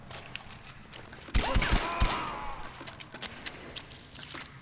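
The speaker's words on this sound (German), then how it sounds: "Die Schüsse kommen einfach so aus Spaß" A burst of several rapid gunshots in Far Cry 4 on PS4, followed by quieter mechanical clatter and faint shots trailing off.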